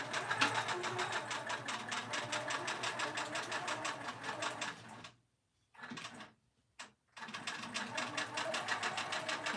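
A sewing machine runs steadily, stitching a cross stitch pin keep on Lugana 25 count cross stitch fabric, with a fast rhythmic whir broken by a few brief pauses before it resumes.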